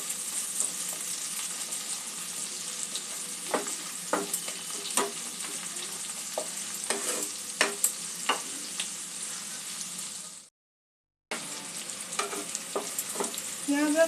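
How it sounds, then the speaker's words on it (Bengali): Onion and capsicum fry in a pan for sweet and sour chicken, sizzling steadily and close while a spatula taps and scrapes at irregular intervals. There is a brief dropout near the end, and no one speaks. "পেঁয়াজ আর ক্যাপসিকামটা দিয়ে দেবো। এগুলো একটু হালকা ক্রাঞ্চি করে ভেজে নেব।"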